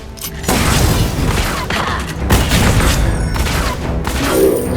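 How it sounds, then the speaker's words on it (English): A tower is destroyed in the mobile game Arena of Valor, loud booming explosions and rapid combat impacts layered over game effects, dense and continuous. "Your tower has been destroyed."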